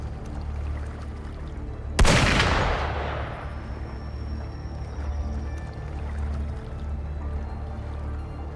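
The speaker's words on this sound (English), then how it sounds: "Gunfire! We've got intruders." One loud, booming gunshot in the video game Wuthering Waves cracks over a low ambient rumble, its echo fading over about a second, followed by a faint high whine and steady background hum.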